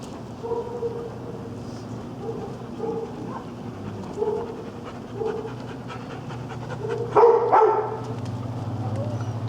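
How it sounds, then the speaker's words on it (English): Several big dogs out on red rock terrain pant steadily, with a brief burst of barking near the end, while a person talks nearby. "There's DOG. And Scout."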